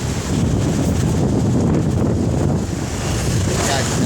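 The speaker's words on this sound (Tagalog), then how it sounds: "Napakalakas ng hangin dito." Loud, constant roar of strong wind battering the microphone, dense and unbroken throughout.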